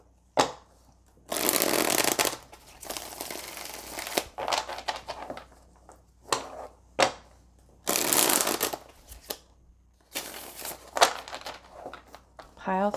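A deck of message cards is shuffled for a pick-a-card love reading, giving repeated bursts of brisk riffling and flapping separated by short pauses, close and fairly loud with no talking.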